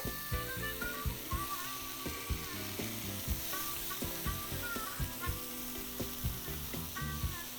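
Watermelon slices sizzling on a grill just after flipping, a steady close hiss of frying with faint recurring taps and scrapes through the whole stretch, without speech.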